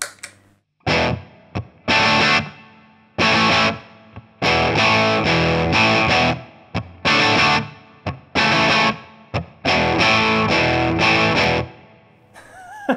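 Loud, heavily distorted electric guitar through a cranked Marshall Plexi amp, playing chopped bursts of chords with stops between them, drenched in a spacious reverb tail.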